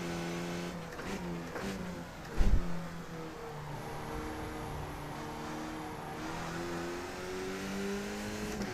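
A race car engine in the iRacing sim game revs and shifts through the gears, with rising and falling tones and a short thump partway through, steady and continuous with no talk.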